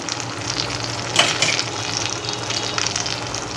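Fasting-style potato vadas frying in hot oil, a steady close sizzle and bubble with a brief louder splash of movement partway through, no voices.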